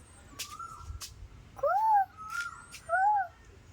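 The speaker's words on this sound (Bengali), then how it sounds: "ওটা কি পাখি? হ্যাঁ, পাখি কি বলছে?" A bird calls twice with short, rising-then-falling whistled notes, faint against a quiet room with some background rustle.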